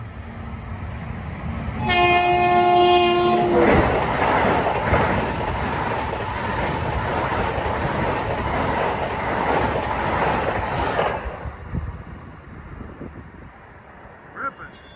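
An eastbound LIRR M7 electric commuter train approaches and rushes past at speed, its multi-note horn blaring loudly for about two seconds before a long roaring pass of wheels and motors that fades toward the end.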